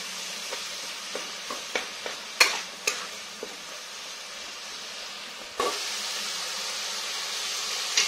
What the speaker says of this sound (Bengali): এই মশলাটা ভালো করে কষে নেব